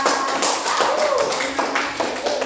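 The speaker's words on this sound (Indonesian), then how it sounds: "berikan aplaus untuk kelompok 2" Students in a classroom applaud group 2 with a dense burst of clapping, steady and fairly close, while a voice talks briefly over it.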